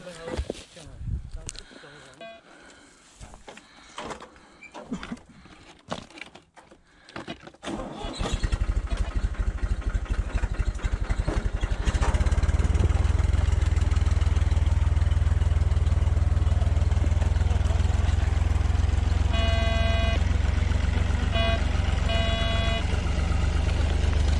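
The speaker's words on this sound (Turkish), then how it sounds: "Şunu aşağıya gelsene traktörle dostum." A tractor engine cranks and catches, then settles into a loud, steady low idle that fills the scene, after earlier outdoor talk among workers and faint beeping tones near the end.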